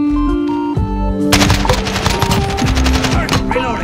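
Rapid automatic gunfire crackles loudly in a first-person shooter match, dense bursts running almost continuously after a brief lull, with a voice calling out over the shooting.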